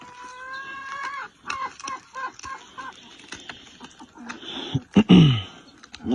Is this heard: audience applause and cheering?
no